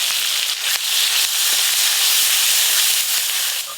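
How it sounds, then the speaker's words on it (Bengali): Dried chillies and whole cumin seeds sizzle loudly in hot oil, giving a dense, bright hiss with scattered tiny pops and crackles throughout. "আজকে আলুর দমে শুকনো লঙ্কা, গোটা জিরে ফোড়ন দেব"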